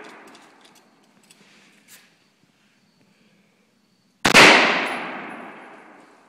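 A single sharp AR-15 rifle shot cracks out at a can, loud and close, with a bright metallic clang and a long fading ring, after a few seconds of near quiet.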